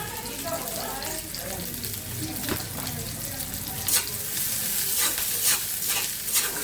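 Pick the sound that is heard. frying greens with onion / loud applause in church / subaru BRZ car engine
frying greens with onion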